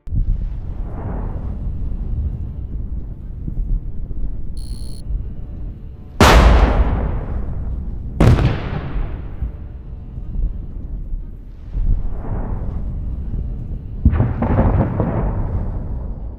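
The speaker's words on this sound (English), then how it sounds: "The explosions don't stop." Artillery fire on a battlefield, with two sharp, loud blasts a couple of seconds apart, then further duller booms, all over a constant low rumble.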